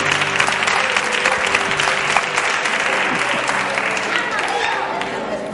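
A studio audience on a Spanish afternoon television show bursts into loud, sustained clapping that stays dense and steady throughout, with voices and faint tonal sounds mixed in beneath it.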